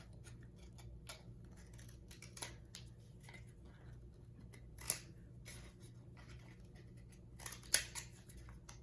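Scissors snipping paper into pointed petals for a craft, a few quiet, sparse clicks over a soft steady background hum, with one sharper snip near the end.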